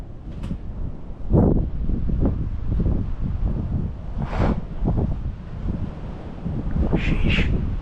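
Night wind buffets a high Appalachian perch 400 feet up, roaring and rumbling in loud, uneven gusts that rise and fall close to the microphone.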